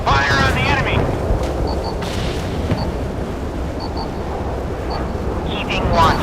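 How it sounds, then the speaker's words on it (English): Warship guns open fire in the naval combat game Force of Warships: heavy booms and rumbling blasts over a constant roar of sea and engine noise, with short bright bursts scattered throughout. "Ready to open fire on the enemy."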